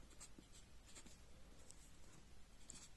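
Chalk or marker writing on a board during a class on states of matter: soft, faint scratching strokes repeated irregularly over steady room noise, with no talk.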